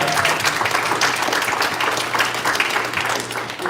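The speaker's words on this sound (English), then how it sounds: "Round of applause." A convention crowd at JordanCon 2021 applauds loudly and steadily, dense clapping filling the whole stretch without pause.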